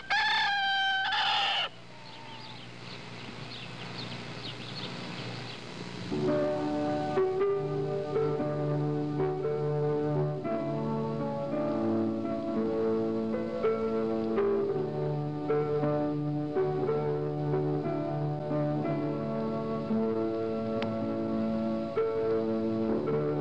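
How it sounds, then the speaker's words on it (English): A rooster in the Lancaster County, Pennsylvania countryside crows loudly and close up at the start, then clucks. After a few seconds, loud steady music with sustained tones takes over and plays under the bird to the end. "It's a Lancaster County, Pennsylvania rooster and some of the countryside there."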